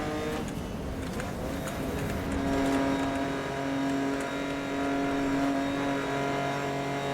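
A car engine revs and accelerates in the 2012 racing game Need for Speed: Most Wanted, a steady droning motor with rising tonal whine during a race, continuous and close.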